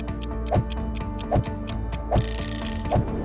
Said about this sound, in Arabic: حينها رن الهاتف